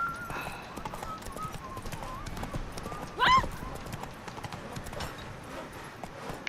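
Roach, Geralt's horse in the video game The Witcher 3, trots with a steady clip-clop of hooves under continuous game ambience. A short snort or whinny rises midway, and someone speaks briefly.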